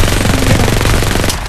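Rapid automatic gunfire from the mobile video game Farlight 84 rattles loud and dense for over a second, then cuts off near the end.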